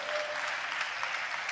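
A church congregation claps in praise to God during a sermon, a dense, steady wash of many hands throughout, fairly loud and close with no pauses.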